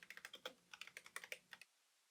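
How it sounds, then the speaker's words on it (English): Quick run of keystrokes on a computer keyboard, about a dozen close, crisp clicks in an uneven burst, stopping abruptly into silence. "I'm going to type in some info here"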